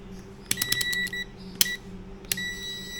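A multimeter set to continuity beeps while probing the wiring of a Pumpkin high-pressure washer that will not start: a quick burst of short electronic beeps, then two separate single beeps, close and clear over a low background hum.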